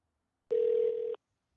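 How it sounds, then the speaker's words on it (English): A single steady telephone tone sounds alone for under a second, like a dial tone picked up before a call is placed, clean and fairly close with silence around it. "Brother Ricky, I'm going to call you back on this phone"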